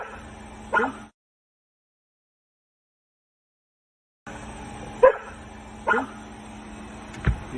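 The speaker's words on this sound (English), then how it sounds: "What you barking at, bud?" A dog barks outdoors at night, a few separate sharp barks and yips spaced out with a silent gap between them, fairly close to the listener.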